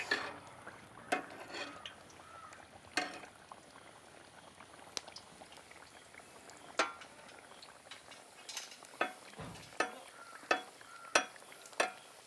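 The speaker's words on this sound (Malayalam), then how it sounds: "നമ്മുടെ ബിഗ്ഗസ്റ്റ് സമൂസ ഇങ്ങനെ എണ്ണയിൽ നിന്ന് ഞെരിപിരി പൊരിഞ്ഞുകൊണ്ടിരിക്കുന്നുണ്ട്." A jumbo samosa deep-frying in oil, a quiet bubbling hiss punctuated by sharp ladle taps and clinks against the pan, more frequent toward the end, with no voices.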